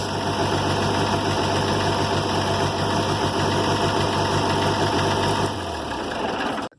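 A Farmall 706 tractor's diesel engine idles steadily with a low rumble and knocking, then cuts out near the end, the sound dropping away to silence.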